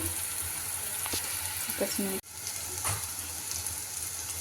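Tempering sizzles and fries steadily in a pan with tomato and salt added, a continuous hiss with a few soft clinks and stirs, one brief dropout in the middle.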